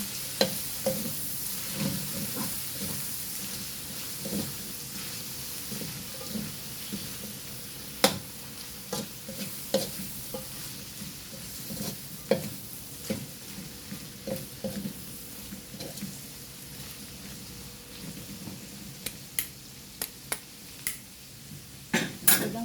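Vegetables and cabbage for pancit bihon are stirred in a hot pan under a continuous sizzle, with frequent sharp scrapes and clacks of the utensil against the pan throughout.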